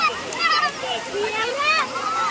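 Cool natural water splashing down over swimming children at Chirner Akkadevi Dam in Uran, with a steady splatter mixed with children's excited voices and chatter throughout.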